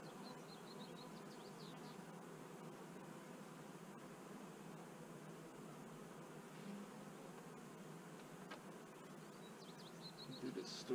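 Honeybees buzz steadily around an open top-bar hive in spring, a continuous moderate hum filling the scene with occasional louder passes near the end.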